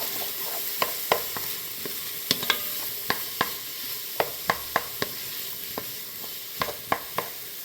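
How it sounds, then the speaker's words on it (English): Vegetables sautéing in butter in a pot give a steady close sizzle, broken by sharp utensil clicks and taps against the pot at irregular intervals. "I'm just going to saute those a little bit too."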